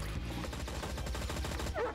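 Hand cannon gunfire in the Monsters and Monocles game, a dense rapid burst of shots that keeps up steadily, loud and close, with no voices.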